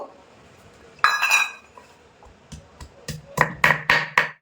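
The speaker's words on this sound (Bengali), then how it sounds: "একদম মিহি করে বেটে নেব আদাটা" Ginger being ground into a fine paste for a Bengali fish curry: a scrape, then sharp knocks and clinks that speed up into a quick run of close, hard strikes.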